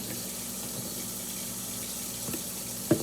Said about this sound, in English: I'm gonna add a little bit more water because it did soak up a little bit of the water.